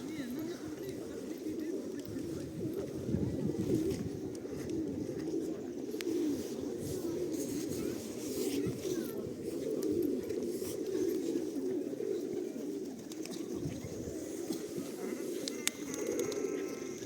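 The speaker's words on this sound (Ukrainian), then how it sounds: "Голуби як літали, так літають голуби." Pigeons coo steadily in a low, burbling murmur that continues throughout, with a voice speaking faintly over them, in a town centre in Truskavets.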